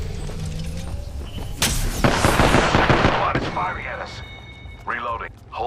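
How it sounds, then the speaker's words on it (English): Bursts of gunfire and impacts from a firefight in the video game Apex Legends, loud and close, with rapid shots clustered in the middle and game voices and effects around them. "I'm under fire."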